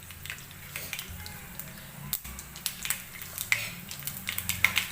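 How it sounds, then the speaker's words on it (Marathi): Mustard seeds crackle in hot oil at the start of a South Indian urad dal and rice breakfast, giving scattered sharp pops that grow a bit more frequent toward the end over a soft, low frying hiss. "तर तेल गरम झालेलं आहे. सुरुवातीला तेलामध्ये मोहरी टाकून घ्यायची. मोहरी व्यवस्थित तडतडू द्यायची आहे."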